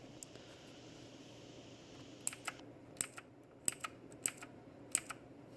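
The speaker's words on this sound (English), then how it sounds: "This keyboard has Altimu Blue mechanical switches, which are fantastic to type on." Typing on a Redragon K555 mechanical keyboard with blue clicky switches: a handful of crisp, separate clicky keystrokes in a slow, uneven rhythm, close and fairly quiet, with no talking.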